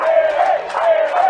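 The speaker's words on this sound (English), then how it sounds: "You may be able to hear the crowd in the background." Loud crowd cheering and shouting at a women's rugby grand final between Adelaide University and Souths, a brief swell of voices in waves, close and energetic.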